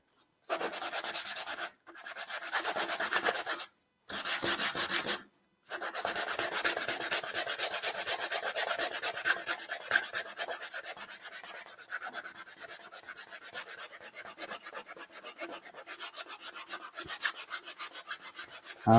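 Dry, raspy sandpaper strokes on a wooden surface coated with ivory lacquer, starting in short bursts with brief pauses, then continuing steadily and growing gradually softer.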